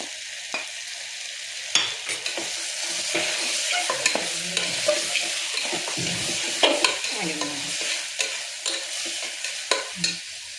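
Spices, grated coconut and coriander powder frying in a pan for a pulao, with a continuous sizzle broken by frequent close ladle scrapes and knocks against the pan, no speech.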